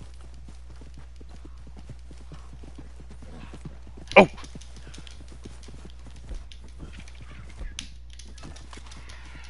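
Horse hooves clip-clop in Red Dead Redemption 2, a steady soft rhythm of light thuds close by. One sharper knock sounds partway through, and someone talks over the hoofbeats.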